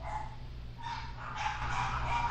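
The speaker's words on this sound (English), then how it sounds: "damn dogs" Several dogs bark in the background, a steady, fairly quiet stretch of overlapping barks that grows a little busier toward the end.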